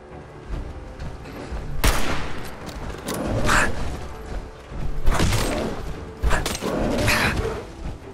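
Rifle shots ring out in Fallout 4 while hunting a bear at Natick, several loud separate bangs spaced a second or two apart, each with a short echoing tail over low background ambience.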